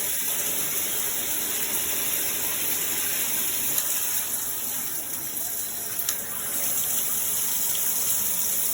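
Water sprays steadily from both heads of a dual shower head setup, a constant loud hiss with a couple of faint knocks and no talking.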